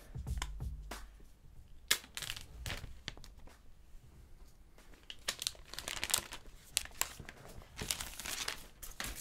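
An iPhone 8 box is opened during an unboxing, giving a series of soft crinkling, sliding and rustling sounds in irregular bursts, close and fairly quiet, with no talk.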